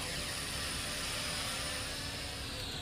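Kai Deng X-Fighter K60 RC plane motor at a throttle punch, a loud, steady high-pitched whine and rushing whoosh of the electric motor and propeller, held close and continuous throughout.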